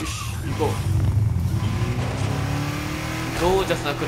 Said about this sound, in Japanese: ゴージャスな車で行こう。